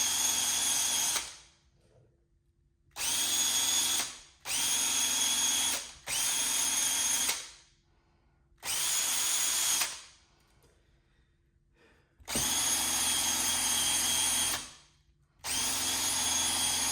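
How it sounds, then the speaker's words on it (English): A power drill spins at high speed to strip adhesive softened with Goo Gone during detailing on a Honda Civic Si EP3, whining loudly in six bursts of one to three seconds with quiet pauses between them. "Drill has to be on high speed in order for this to work."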